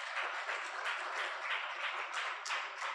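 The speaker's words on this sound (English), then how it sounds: "Can we please give them a big round of applause?" A live audience gives a steady round of applause, dense, even clapping that holds at a moderate level for a few seconds with no talking over it.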